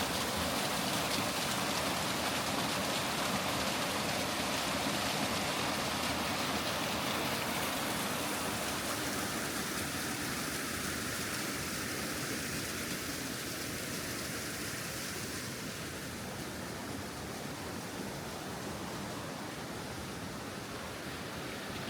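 Water rushes in a steady, dense hiss through the Warburton rainforest, a broad stream roar that stays loud and continuous, easing a little in the second half, with no voices.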